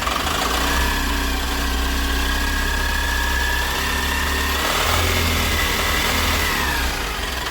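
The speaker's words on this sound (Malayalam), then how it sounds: "അപ്പോൾ വർക്കെല്ലാം കംപ്ലീറ്റ് ആയി വാഹനം ഒന്ന് റൈസ് ചെയ്ത് കാണിച്ചു തരാം" A Maruti Suzuki Super Carry engine runs after engine work, idling in a steady mid-pitched drone with gentle revs partway through, loud and close, with no talk.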